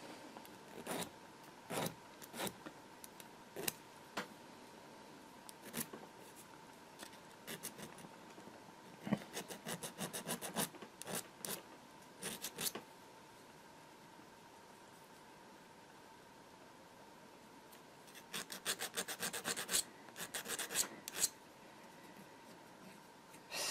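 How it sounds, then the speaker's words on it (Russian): Burrs being sanded off a sewing machine shuttle part by hand, heard as faint, dry scratching strokes in short irregular bursts and rapid clusters, separated by quiet pauses. "Здесь тоже можно шлифануть."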